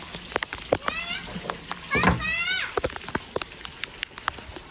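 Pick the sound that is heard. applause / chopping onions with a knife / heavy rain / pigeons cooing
heavy rain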